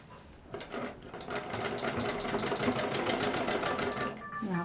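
Sewing machine running fast and close while stitching a fabric bangle case, a steady rapid mechanical chatter lasting several seconds.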